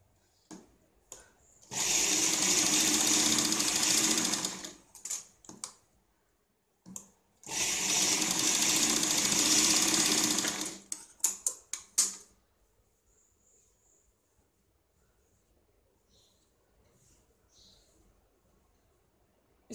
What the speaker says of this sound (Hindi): तो हम इसके ऊपर अब सिलाई लगाते हैं।